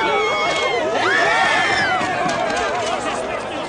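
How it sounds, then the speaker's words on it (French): Noisy crowd at a busy event, dense overlapping chatter and raised voices filling the space continuously and loudly, with a few cheers and shouts rising above the babble. "Excuse-moi, j'ai du mal à t'entendre dans cette foule."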